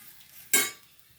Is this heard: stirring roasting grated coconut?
yes